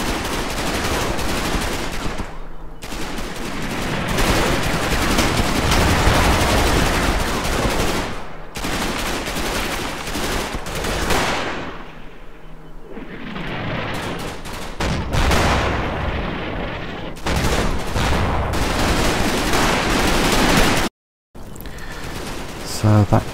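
Heavy gunfire and artillery fire in the Combat Mission video game, set in the Market Garden campaign, pour down as a loud, nearly continuous barrage of machine-gun bursts and blasts with brief lulls.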